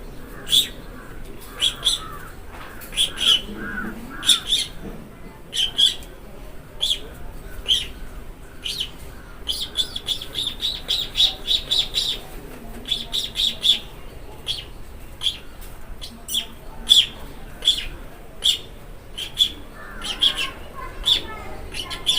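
A man imitates the thin, fine call of a small Indian village bird with his voice, producing rapid bursts of high chirps repeated in an irregular rhythm, loud and close, with faint talk under them.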